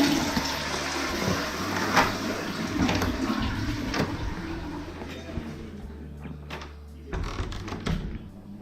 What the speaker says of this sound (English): Oh, I need to flush.